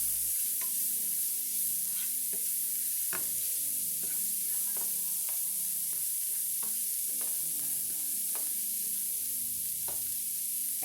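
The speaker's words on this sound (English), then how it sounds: "I've had my onions cooking for a few minutes now" Onions and jalapeño sautéing in a pan, a steady bright sizzle punctuated by repeated clicks and scrapes of stirring, close and continuous with no talking.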